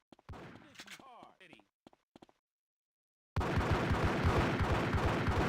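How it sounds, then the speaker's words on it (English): Rapid gunfire from the shooting range in GTA: Chinatown Wars, a dense run of repeated shots that starts suddenly after a few scattered sharp cracks and carries on steadily, loud and close. "I was wondering why I was hearing gunshots at first."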